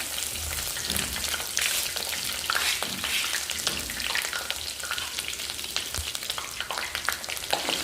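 Stone-ground ginger paste fries in hot oil for chicken pickle, a steady dense sizzle with soft scraping stirs throughout, close and continuous with no talk.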